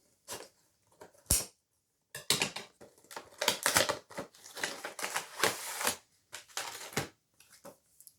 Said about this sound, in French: On va couper le collant.